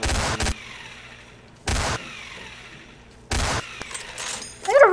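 Gunfire in Garry's Mod, three loud, sharp bursts spaced roughly evenly apart, each a short volley of cracks, with some fainter clicks and a brief rising chirp near the end.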